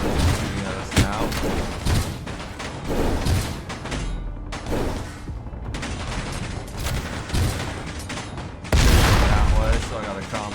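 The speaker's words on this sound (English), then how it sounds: "Like both guns are shooting at us now." Guns firing in a video game, with rapid bursts and repeated booming shots that thump steadily throughout, loud and close, mixed with a talking voice.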